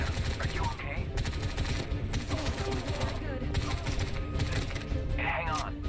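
Rapid gunfire in the early-access shooter Bright Memory, in a lost-forest boss fight. Bursts of close, loud shots repeat throughout over a dense game soundscape.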